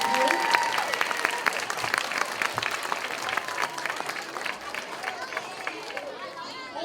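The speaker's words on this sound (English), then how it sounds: "a round of applause for Mrs. Bowman who put this together" Audience at a first grade school concert applauds for the teacher who organized it, a dense sustained crowd clapping with some chatter and voices mixed in, gradually thinning toward the end.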